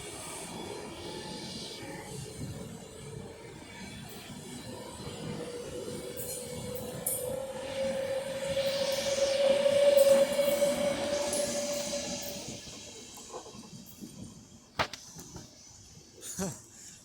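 Train 390119 'Progress' passes through Stoke-on-Trent station with a steady rumble that swells as it goes by, a sustained high wheel squeal at its peak, then fades to scattered clanks. Someone talks quietly over it.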